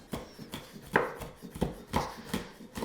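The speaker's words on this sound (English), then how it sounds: "you're going to finely chop your green chillies" Green chillies being finely chopped with a knife on a board, about a dozen crisp, evenly spaced taps in a steady rhythm, close and alone.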